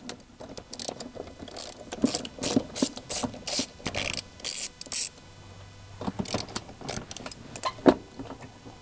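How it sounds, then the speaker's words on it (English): A 10mm socket wrench ratchets while undoing the intake pipe clamps on a 200 Series during an airbox install, with repeated close bursts of quick clicking and a few pauses between strokes. "Next we're going to get the 10mm socket and undo the two clamps that hold the intake pipe"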